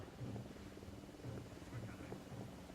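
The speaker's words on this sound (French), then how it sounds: "Un hélico de l'unidad." A helicopter flies in the video game Ghost Recon Wildlands with a low, faint rotor drone that holds steady throughout at a distance, mixed with other game ambience.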